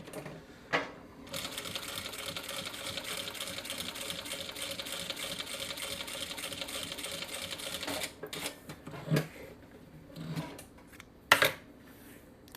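A Vevor M2 sewing machine stitches leather in a steady, fast mechanical chatter that runs for several seconds, then stops and starts in short bursts with clunks and handling noises.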